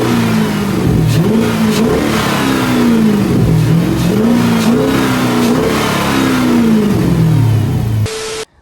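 Chrysler 300 engine with a cold air intake revving repeatedly, pitch rising and falling in several loud close pulls before cutting off abruptly at the end, with no voices.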